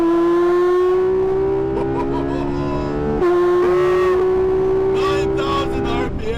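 A Porsche 911 991.2 GT3 RS engine holding a steady, loud high-pitched drone that climbs slowly, with a brief dip and recovery midway, heard up close and continuously.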